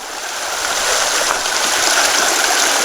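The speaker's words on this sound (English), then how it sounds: "It's just pouring." Heavy rain pours along the North Fork Skokomish river on a wet, soggy day, a loud, dense, steady hiss of falling water building slightly and filling the whole scene.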